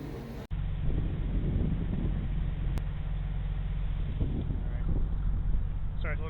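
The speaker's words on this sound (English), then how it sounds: "Sorry, it's a little windy." Heavy wind buffeting a microphone outdoors in Vernon, California, a constant low roar that fills the whole clip after a brief dropout near the start, with faint speech buried underneath.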